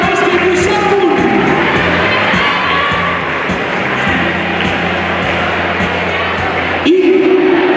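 An audience at the Nit de l'Esport 2017 sports awards night gives loud, sustained applause and cheering for the Club de Bàsquet Lliçà d'Amunt women's senior basketball team, dense and unbroken throughout.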